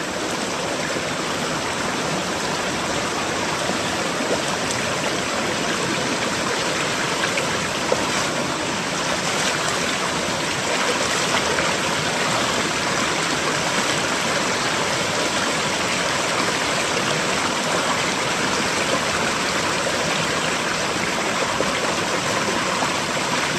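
Floodwater after a heavy flood rushes through a damaged irrigation channel near a small lake, a constant loud broadband gush with no pauses and no talk.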